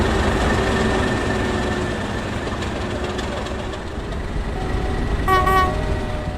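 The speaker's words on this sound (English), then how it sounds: "Home Fleet Loco 37407 and hired in 37607 depart Renford with Free Juliet 40." Two Class 37 diesel locomotives, 37407 and 37607, departing Renford with a train: a steady loud diesel engine rumble with sustained tonal drone, rising slightly near the end with a brief higher whine or horn-like tone.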